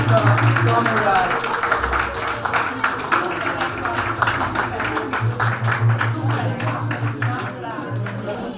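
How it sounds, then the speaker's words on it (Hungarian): A dense, steady patter of audience applause for the winners at a carnival celebration in Kispest, many hands clapping continuously over a low hum, with no voices standing out. "egy nagy tapsot érdemelnek"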